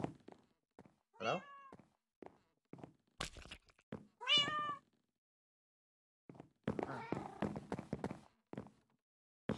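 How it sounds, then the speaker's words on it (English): Video game cats meow several times in short, bright calls, interspersed with thunks and footstep-like clatter during a modded Minecraft-style playthrough, with quiet gaps between bursts. "Watch out, cat."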